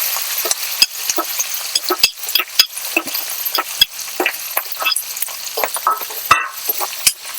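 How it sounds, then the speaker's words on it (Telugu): Cut green chillies and asafoetida fry in oil for a cucumber and brinjal roti pachadi, sizzling steadily up close while a utensil stirs and taps against the pan in frequent sharp clicks. "మంచిగా కూడా ఆయిల్లో ఫ్రై అవుతాయండి"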